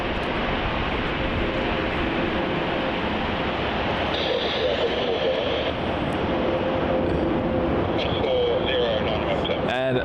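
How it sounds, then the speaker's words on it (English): A Qantas Link Boeing 717-200 departing Melbourne Airport, a continuous broad jet roar held at steady loudness throughout, with a higher whine emerging midway and a person talking over it. "This departure is Qantas Link 717-200, going off to Canberra"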